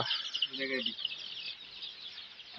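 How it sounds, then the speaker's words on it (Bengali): Baby chickens on a farm cheep in a thin, high, continuous chatter, with one lower cluck-like call early on and a voice faintly audible. "তো এই যে মুরগির বাচ্চা"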